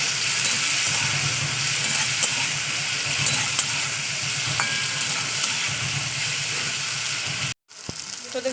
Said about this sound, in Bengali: টমেটোটা দিয়ে না একটু ভাজা করতে হবে তেলের উপরে।